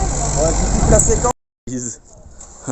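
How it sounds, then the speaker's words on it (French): A tractor engine rumbles close by on a narrow Italian town street, a dense, steady drone that cuts off abruptly, followed after a brief gap by people talking. "Oh, fais chier avec son tracteur."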